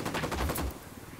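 A rapid burst of automatic gunfire in the Ghost Recon Wildlands video game, loud and close, cutting off before a last sharp crack at the end, with no voices.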